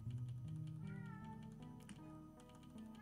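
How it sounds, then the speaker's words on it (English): A cat yowls and meows in a drawn-out, wavering cry, close and fairly quiet, with light clicking in the background. "Cat is yowling."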